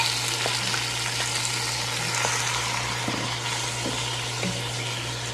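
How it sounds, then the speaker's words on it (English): Frozen onions, peppers and mushrooms fry in olive oil in a pan over turned-down heat, giving a constant close sizzle with a low steady hum underneath and occasional faint clicks of utensils. "Gonna Put those onions and peppers and mushrooms in."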